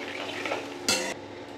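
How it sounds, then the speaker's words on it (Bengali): Soaked mustard powder paste is tipped into a pan of frying curry and stirred, giving a sudden loud sizzling hiss after a soft background of frying, then settling back to a quiet simmer. "এবারে এই সর্ষে পাউডারটা ভিজিয়ে রেখেছি, দিয়ে দিলাম।"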